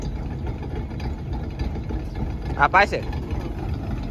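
A tractor engine idles at a steady low rumble on a seaside fishing landing, with people talking briefly close by over it.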